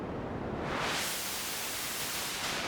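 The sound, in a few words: Dreadbox Eurorack noise module pink noise channel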